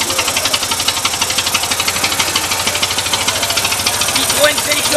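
Vintage engine on an old fire vehicle or tractor, hand-cranked and running with a loud, steady rhythmic chugging and knocking throughout, with people talking in the background.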